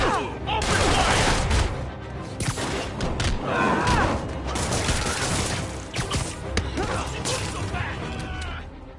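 Enemy thugs open fire in Marvel's Spider-Man on PS4, a sustained, loud fusillade of gunshots with crashing impacts and thuds, mixed with voices throughout.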